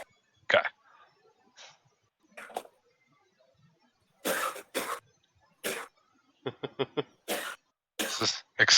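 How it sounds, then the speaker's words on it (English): Several short, sharp coughs break out at intervals, some single and some in quick bursts, fairly close and loud against near silence. "That coughing is not from coronavirus"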